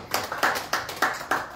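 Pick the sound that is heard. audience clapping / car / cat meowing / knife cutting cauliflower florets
audience clapping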